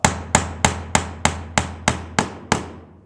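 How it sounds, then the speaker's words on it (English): A hammer taps a steel axle into the wheel hole of a dragster, nine sharp, evenly spaced metallic knocks ringing close and loud, each decaying quickly before the next. "The axle goes into that hole, and you're going to tap it with a hammer"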